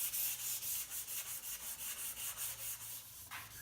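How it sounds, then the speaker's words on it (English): Rhythmic back-and-forth sanding of a wooden carve-top guitar with 220 grit sandpaper to knock down raised grain, with steady rasping strokes repeating about every quarter second, close and fairly quiet. "I'll sand off the raised grain with some 220 grit sandpaper"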